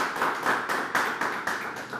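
Television studio audience clapping in unison to welcome a folk singer, loud rhythmic claps at a steady beat of roughly four per second, close and alone.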